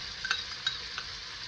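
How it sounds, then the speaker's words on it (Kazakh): Meat and onions frying in a pan: a steady, bright sizzle, with a few light clicks and scrapes of stirring and no voices. "Үстіне қызарғанша қуырып аламыз"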